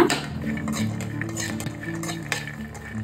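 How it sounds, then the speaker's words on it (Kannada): Peanuts roasting in a pan are stirred with a metal utensil, giving close, continuous scraping and rattling with light clinks and a faint dry crackle underneath. "ಇವಾಗ ಕಡಲೆ ಬೀಜ ಎಲ್ಲ ರೋಸ್ಟ್ ಆಗ್ತಾ ಇದೆ."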